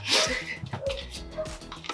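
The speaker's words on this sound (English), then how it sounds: "Next up is a dog barking." A small dog barks and yips in a few short, uneven bursts, fairly close, mixed with some whimpering noises in a quiet indoor room.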